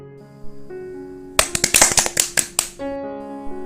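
Classmates in a school religious-education class clap for a student, about a dozen quick, sharp claps in a short burst between sustained musical tones.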